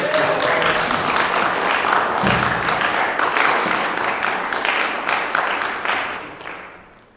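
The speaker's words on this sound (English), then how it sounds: "I'd love for us to give a round of applause to Ike" An audience applauds a senior capstone presenter at a school event, a dense, steady wash of clapping that holds loud for about six seconds before thinning and fading out at the end.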